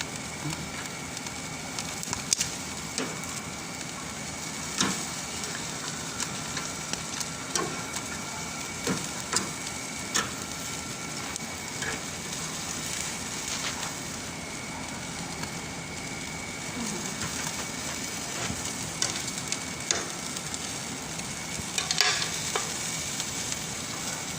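Pork and chicken barbecue cooking over a hot fire, with steady close sizzling and crackling that runs throughout, broken by occasional sharp pops and clicks of fat.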